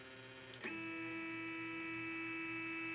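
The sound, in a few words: Othermill desktop milling machine homing and calibrating itself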